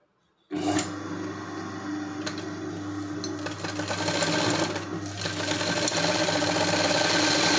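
A sewing machine starts abruptly and runs steadily at close range, stitching a hair rubber band with a fast, even mechanical whir that speeds up slightly partway through.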